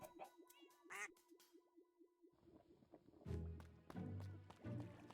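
Short quacks from a duck in a Stardew farming video game sound in quick succession early on, then give way to denser game sounds and music.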